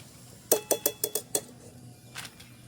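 Crispy fried jackfruit chips shaken in a metal basket make a quick burst of six bright, clattering rattles close up, then a softer second rattle after a pause, over a quiet hiss of hot oil.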